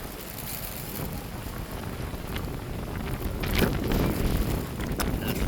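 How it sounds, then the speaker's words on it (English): Outdoor wind buffeting a microphone at a cafe in Honolulu, Hawaii, a steady low rumbling roar that swells louder toward the end, with no clear talk over it. "That's the wind."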